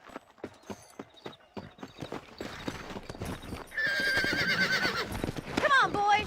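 Horses trot along in Red Dead Redemption, with steady near clip-clop hoofbeats that build into a fuller gallop, followed by a whinny near the end. Talk runs underneath.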